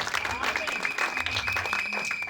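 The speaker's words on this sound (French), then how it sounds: "Acclamons pour le roi des gloires, car il est merveilleux." A church congregation applauding during a worship service, a dense, steady wash of clapping filling the room with voices mixed in beneath.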